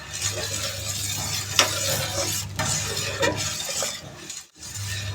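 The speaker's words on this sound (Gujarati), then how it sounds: "આ રીતે હલાવીશું એટલે કેસર અંદર મિક્સ થઈ જશે, ઓગળી જશે કેસર અંદર." Saffron strands are stirred into hot milk for Gujarati doodh pak, a continuous swishing of a spoon in a pot over a low background hum, with a brief pause near the end.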